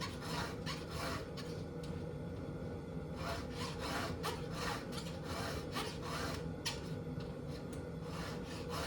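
A chainsaw chain is sharpened with a STIHL HEXA file, close rhythmic rasping strokes repeating in bursts with short pauses between them.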